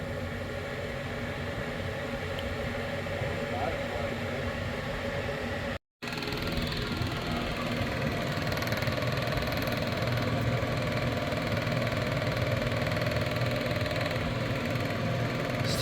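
Pump sucking old fuel out of a Sea Ray 240 boat tank drones steadily and close by with a constant mechanical hum and vibration, cut off by one brief drop-out before resuming unchanged.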